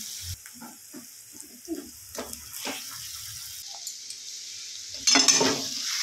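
Mashed potato is stirred into a cooking vegetable mixture in a pan for bread pakoda, with soft scraping and clinking of a spoon over a faint sizzle, plus a louder clatter near the end.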